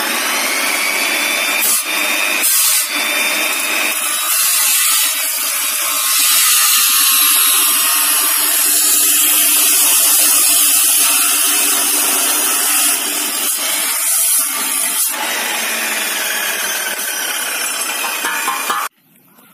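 A power saw cuts timber for roof truss work, a loud, close grinding and buzzing cut that runs continuously with brief dips and cuts off sharply at the end.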